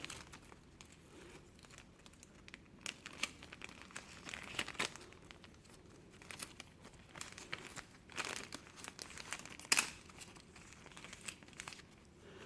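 Tape crinkles and tears softly as it is wrapped around a lime tree branch to hold an air-layering sleeve, with faint intermittent rustles and a few sharper rips close by.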